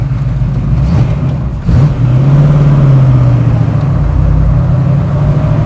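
A 1969 Ford Mustang Fastback restomod with a 347 stroker engine and five-speed gearbox drones loudly and continuously from inside the car, its pitch lifting slightly as it pulls.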